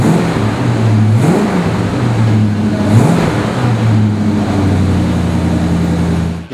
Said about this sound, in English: You just hit the key, it fires right up. It's on high idle right now.